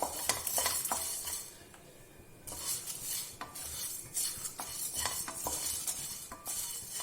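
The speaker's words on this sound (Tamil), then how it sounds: "இதமான சூட்ல லேசா வறுத்துக்குருவோம்." Whole cumin and fennel seeds stirred and dry-roasted in a pan over gentle heat for chicken biryani, with steady scraping and light metallic clinks of a spoon against the pan, close and moderately quiet, no talking.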